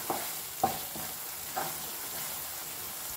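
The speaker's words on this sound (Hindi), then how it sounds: "तो अच्छे से धीमी आंच पे से चलाते रहना है।" Moong dal halwa being stirred in a pan over a low flame, with a few soft scraping strokes against a steady faint sizzle, close and quiet with no talking.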